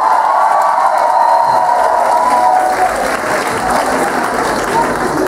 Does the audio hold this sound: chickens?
no